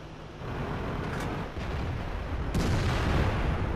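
Artillery shells landing in a World of Tanks match, a steady roar of battle noise with two sharp booming impacts standing out, loud and close, with no talk.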